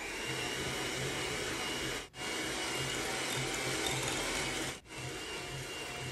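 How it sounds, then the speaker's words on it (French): An electric whisk beats Nutella and chocolate flan into a firm cream, a steady close motor whine with two brief cut-offs. "je travaille bien le tout avec un fouet électrique"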